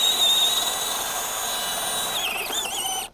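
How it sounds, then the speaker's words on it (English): A power drill turning a heavy-duty 1.5-inch ship auger bit as it bores into a log for a log cabin wall: a steady, high-pitched whine runs throughout, close by, shifts pitch near the end and then stops. "This is one of the kind of a heavy duty, just a ship auger bit."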